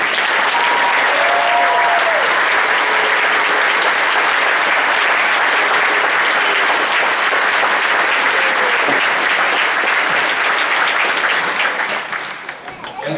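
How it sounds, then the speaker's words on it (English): Sustained loud applause from a law school graduation audience honouring the class of 2014, dense steady clapping filling the hall for about twelve seconds before tapering off at the end. "I think they deserve a round of applause once again"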